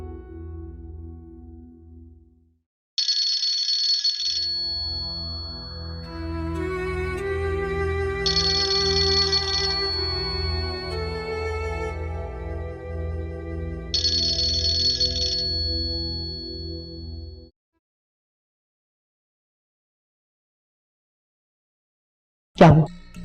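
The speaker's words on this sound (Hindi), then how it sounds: "फोन बज रहा है लेकिन कोई रिस्पॉन्स नहीं है।" A telephone rings repeatedly without being answered, electronic ring bursts recurring in a steady pattern over a low musical drone for about fifteen seconds, then silence.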